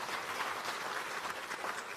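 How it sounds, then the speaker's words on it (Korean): Steady applause from a church congregation at a Presbyterian pastor ordination service, a dense continuous wash of many hands clapping that fills the space evenly. "박수해 주시기 바랍니다."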